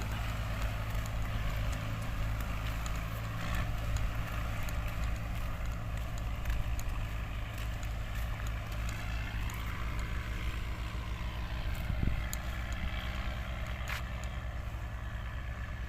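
A walking tractor engine works a sugarcane field, a steady low mechanical drone that runs continuously at moderate distance with no talk.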